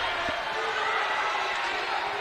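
Basketball arena crowd reacting to an officials' call, a sustained roar of disapproval filling the space, with a commentator's voice over it.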